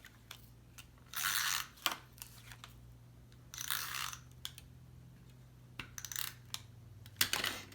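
A snail adhesive tape runner is pressed onto the four corners of a handmade fold thanks card, giving several quiet clicking, ratcheting rolls separated by short gaps.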